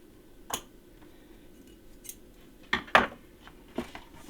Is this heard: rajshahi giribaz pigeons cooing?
no